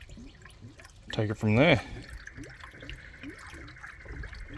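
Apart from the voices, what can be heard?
pouring coolant into 4x4 radiator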